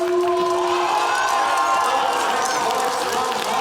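A large crowd roars steadily and loudly at a 2022 FIRST in Michigan robotics district event at St. Joseph High School, with a sustained tone running through the first second and no clear words.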